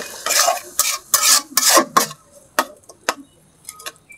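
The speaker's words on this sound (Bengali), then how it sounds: "সামান্য একটু পানিটা দিতেছি মশলাটা কষা নিব" Spice paste of turmeric, chili and coriander powder with a little water is stirred and fried for rita fish bhuna, with loud, rhythmic spatula scrapes and clanks against the pan over a soft sizzle, close up and without talking.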